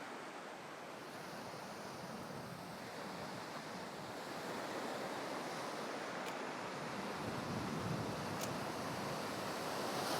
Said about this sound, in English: When the waves come in, there's one coming in now.